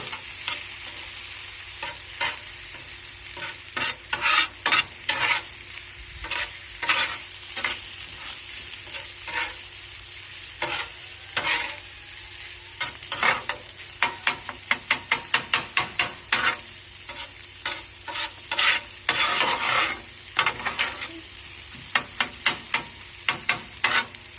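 Chicken fried rice with butter added frying in a pan: a constant sizzle with frequent sharp scraping strokes of a spatula stirring, close and steady throughout without talk.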